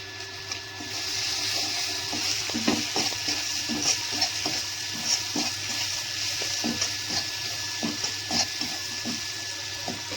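Steady sizzling of cabbage frying in a pan, with scattered clinks and scraping of stirring throughout, no voices.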